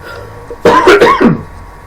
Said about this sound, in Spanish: perdón por la tosecita